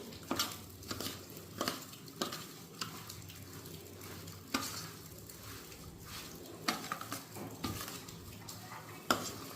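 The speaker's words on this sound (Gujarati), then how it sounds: "હવે બધી વસ્તુને બરાબર મિક્સ કરી દઈશું" Mango pickle ingredients being stirred and mixed with warm oil in a bowl, with irregular scraping and clicking strokes of a spoon close by, no talking.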